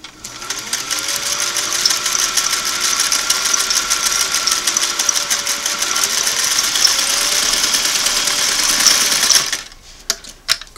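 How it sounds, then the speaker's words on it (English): Singer 503A twin-needle sewing machine running a straight stitch along a flat felled seam, a steady fast whirring hum for about nine seconds, close and loud, then stopping with a few faint clicks. "Then you sew along that."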